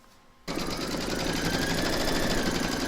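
Embroidery machine stitching a placement outline for an in-the-hoop stacked snowman, starting abruptly after a quiet moment into a loud, fast, steady mechanical chatter.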